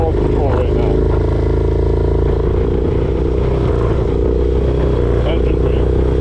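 A Harley-Davidson Dyna motorcycle engine held under steady throttle during a wheelie, a loud continuous close-up rumble with small surges and no pauses.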